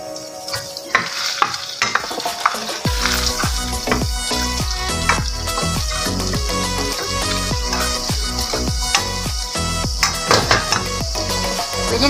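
Onion sizzles loudly in melted butter in a pan, with a steady frying hiss and repeated clinks and scrapes of stirring, close up and without talk.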